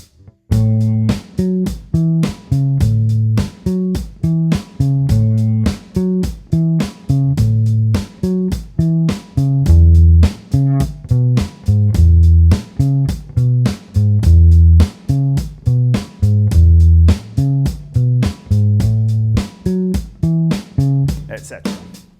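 A punchy electric bass plays a repeating, syncopated soul verse riff in the low register, loud and close, looping steadily with no one talking.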